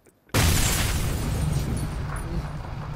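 A video game bike blowing up in one sudden, loud explosion that roars on as a dense, sustained rumble without fading, with no talk over it.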